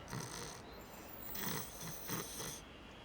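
Several slow, rhythmic snores from an animated cartoon character, close and soft, each a raspy inhaled rumble separated by brief pauses.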